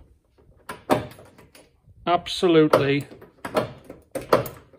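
The door lock on a Ford Escort RS 2000 Mk1 is worked by hand, giving a few close metallic clicks and clunks around a man's brief speech.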